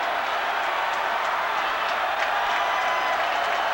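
A college basketball crowd in Chapel Hill roars during a Duke versus North Carolina game, with a broad, continuous wash of cheering and noise that swells slightly as the fans rise.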